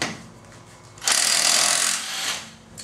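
A Harbor Freight cordless impact wrench hammers in one loud, close burst of about a second, preceded and followed by quieter mechanical whirring.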